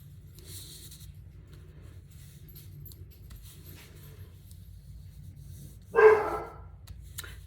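A dog gives one short bark from somewhere indoors, not close, rising briefly above a low steady hum and faint rustling from paper crafting.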